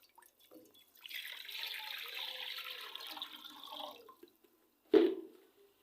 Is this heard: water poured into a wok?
yes